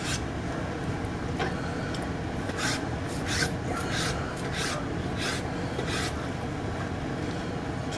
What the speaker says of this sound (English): I'm just going to cut it in little chunks, and we're going to cut those again into bite-sized pieces by turning them.